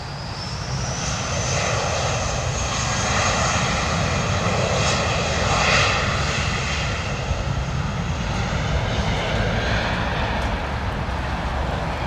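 An airliner in yellow Pikachu livery at Heathrow produces a loud, continuous jet engine roar with a high whine layered on top, steady and close for the whole stretch.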